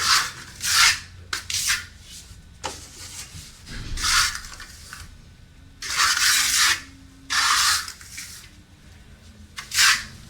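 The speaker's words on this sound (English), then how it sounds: "I'm applying it with a trowel" A trowel spreads plaster finish mix over a fireplace, with bursts of scraping and rubbing strokes coming and going in irregular sweeps, separated by quieter pauses, close up and with no talking.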